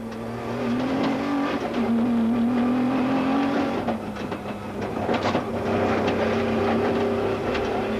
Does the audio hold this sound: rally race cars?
yes